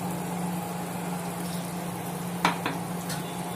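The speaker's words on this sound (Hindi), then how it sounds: "ये प्याज और दही का पेस्ट है जो हमने बनाया था, अब हम इसको चिकन में डालेंगे" Onion and yogurt paste goes onto chicken leg pieces sizzling in a pan, giving a steady low frying hiss with a couple of sharp utensil clicks partway through.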